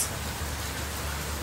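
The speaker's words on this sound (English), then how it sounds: "It's like actual raindrops." Steady broadband patter of rain falling outdoors, a continuous soft hiss with no distinct drops standing out, moderately quiet and even throughout.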